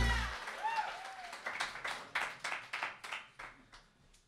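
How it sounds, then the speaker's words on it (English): Small audience at a spoken word poetry festival bout claps in sparse, separate bursts that follow a brief voice at the start, the claps fairly faint and thinning out toward the end. "How about a big round of applause for being here?"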